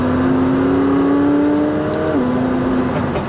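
A McLaren 570S Spider engine holds a steady, loud drone, then its pitch steps down sharply as the car is shifted down a couple of gears, with no talk over it.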